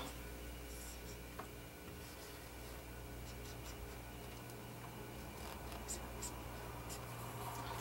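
Pen or pencil scratching on paper while a file guide is sketched, a soft continuous rubbing with faint ticks over a steady low hum, close and quiet with no talk.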